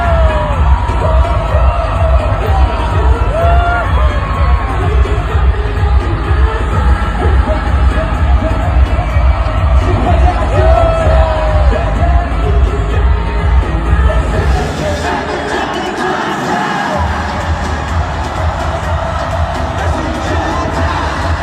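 A huge stadium crowd at a concert in Las Vegas roars and screams continuously, with whoops and yells layered into a dense, loud wall of cheering that dips slightly partway through but never stops.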